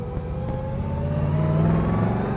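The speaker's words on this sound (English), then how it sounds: "Nothing sounds better than a big block Chevy." A 1969 Chevrolet Chevelle Yenko tribute with a big block Chevy engine and a 4-speed revs up, a deep, rumbling roar climbing steadily in pitch, close and loud, with no voices.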